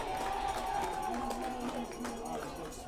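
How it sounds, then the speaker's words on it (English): High school varsity football crowd in Walpole cheering and clapping after a long opening run against Mansfield, a sustained distant roar with a play-by-play announcer talking over it throughout. "Gets the crowd pumped up."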